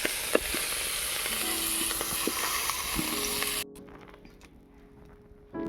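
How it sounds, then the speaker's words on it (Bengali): Prawns fry in hot oil in a pan with a loud, continuous close-up sizzle and occasional spatters; the frying sound then drops away abruptly to quieter background noise. "চিংড়ি মাছগুলোকে আমি ভেজে নিয়েছি, এবারে তুলে নেব।"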